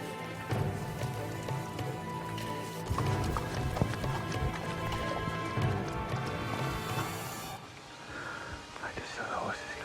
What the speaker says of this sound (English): I just saw the horses go past.